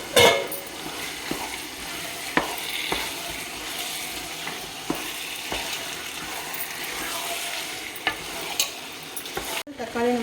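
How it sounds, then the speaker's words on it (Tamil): Chicken and 600 grams of chopped tomatoes stirred in a frying pan for biryani, a steady close sizzle with a spoon scraping and clacking against the pan every second or two, no talking. "இப்போ நம்ம சிக்கனை சேர்த்ததுமே நம்ம கட் பண்ணி வச்சுருக்க 600 கிராம் தக்காளியை சேர்த்துக்கிறேன்"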